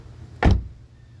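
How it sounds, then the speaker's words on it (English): A Honda CR-V car door shuts with a single solid, deep thump, short and close, followed by quiet. "Here's how a door should sound."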